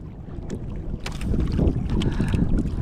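Water sloshes and splashes around a boat as it is pushed along, with gusts of wind buffeting the microphone and growing louder midway.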